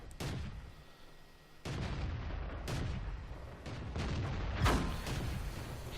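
Tank cannons firing during a World of Tanks battle. Heavy booms and blasts overlap against a dense, rumbling background of game noise, with several strong shots landing in quick succession.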